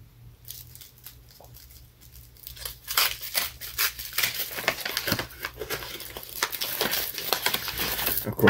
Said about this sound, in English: another shiny tinfoil packaging. Good way to keep chocolate safe